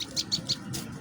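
A just-released wild bird, a moss prinia, gives several quick high chirps in a rapid, evenly spaced series. They are fairly near and sound over a steady outdoor background rumble.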